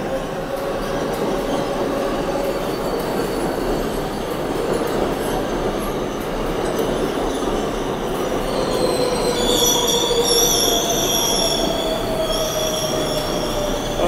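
Loud subway train rolling close by, a sustained roar of wheels on rails with high metallic squealing that rises and intensifies in the second half, no talking.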